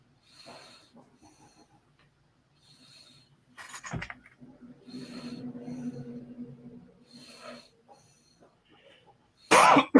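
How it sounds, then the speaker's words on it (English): Several close, harsh coughs from one person, with short throat-clearing bursts between quieter stretches and a loud final cough; one person is ill with pneumonia. "just a stupid cough"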